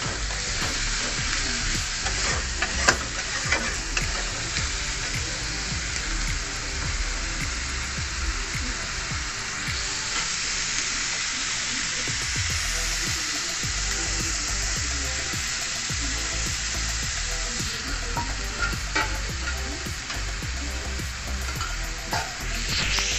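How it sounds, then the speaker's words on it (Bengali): Onion and ginger-garlic paste masala for paneer sizzles and fries in a pan, a loud, constant crackling hiss with occasional scraping stirs throughout, no talking. "মশলাটা কষতে থাকবো যতক্ষণ মশলা থেকে"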